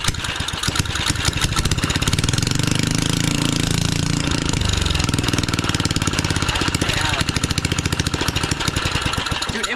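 A junkyard tiller engine fitted to a go-kart idles low, a loud, steady chugging putter with a rhythmic knock throughout and a brief rise in pitch near the middle, with people talking over it.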